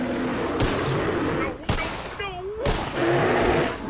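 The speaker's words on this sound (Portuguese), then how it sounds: "Tá, ele vai atirar." Gunshots in the Red Dead Redemption video game, three sharp, loud cracks spaced about a second apart with a voice talking between them.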